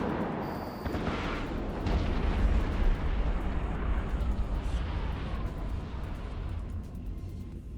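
Rocket explosions in the EVE Online space game swell into a deep, rumbling roar that rolls on steadily and fades slowly, with no one talking.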